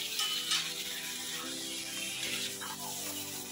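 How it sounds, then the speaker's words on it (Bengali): Mutton is stirred with spices in a hot pan, giving a continuous sizzle with scraping spoon strokes against the metal, close and fairly quiet, no talking. "এটাকে এবার ভালো করে মশলার সঙ্গে মিশিয়ে নেব।"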